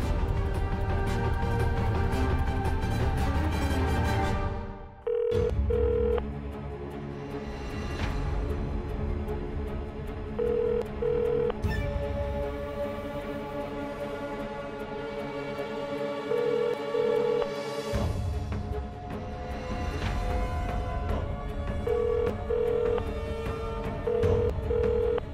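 Repeated short electronic phone ringing tones sound in pairs over a steady background of music, continuing for the length of the clip.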